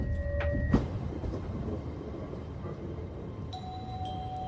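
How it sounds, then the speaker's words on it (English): Train rumbling into a station platform, a steady low roar throughout, with a brief clank early on and faint tonal chimes, alone without voices. "The train arriving platform 1 is the Arriviata service from London King's Cross."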